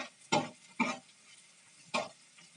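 Tamarind frying in a pan, stirred in three distinct scraping strokes, two in quick succession and a third after a pause, over a faint low background with no talking.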